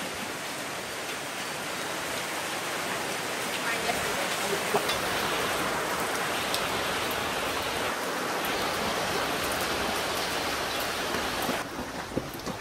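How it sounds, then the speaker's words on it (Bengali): Steady, dense rain pours down in a Bangladeshi village, a continuous close hiss that holds at an even level for the whole stretch, then eases slightly at the very end. "আবার বৃষ্টি নামছে।"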